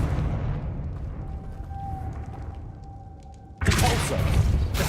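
A Confringo spell from Hogwarts Legacy goes off as a sudden, loud explosive burst that cuts through a quiet, low hum and then fades into a dense roar.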